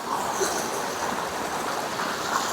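Water from a waterfall near Savitri Temple in Pushkar pours down in a continuous, even rush and splash, fairly close and steady throughout, with no talk over it.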